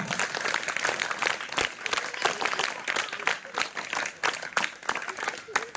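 An audience at a Telugu community function honouring teachers breaks into applause, a dense, uneven clatter of many hands sustained for several seconds at close range, with a voice over the clapping.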